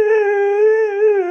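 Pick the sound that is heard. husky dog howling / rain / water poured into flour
husky dog howling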